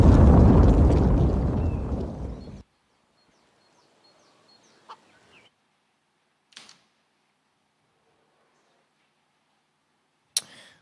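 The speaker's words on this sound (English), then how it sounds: "Bomb goes off." A bomb explodes in Counter-Strike during a professional match between Evil Geniuses and Cloud9, a loud broadband blast that roars for over two seconds, decays and cuts out, followed by a few faint clicks and one sharp pop.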